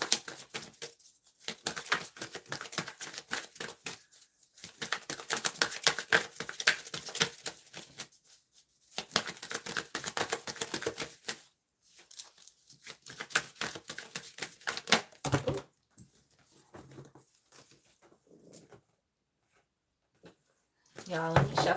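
Tarot cards are shuffled in bursts of dense, rapid riffling and flicking, several seconds each, close to the microphone with short quiet gaps between them, while a voice talks at times.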